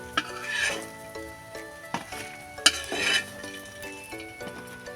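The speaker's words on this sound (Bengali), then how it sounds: "আমি আরও ভালো করে একটু ভেজে নিই" Vegetable snack pieces fry in a pan, a steady oily sizzle broken by scattered clinks and scrapes of a utensil against the metal, close and fairly quiet with no talking.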